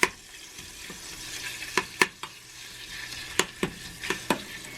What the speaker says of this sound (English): Got my beans are starting to sizzle.